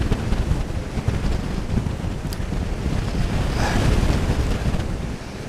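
Strong wind buffeting a microphone outdoors in Reykjavik, a loud, continuous rumbling roar with gusty swells and no voices.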